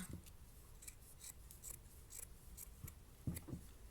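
Scissors snip through a sweater along its seams, a series of quiet, close crisp cuts and fabric rasps in an irregular rhythm, with no voices.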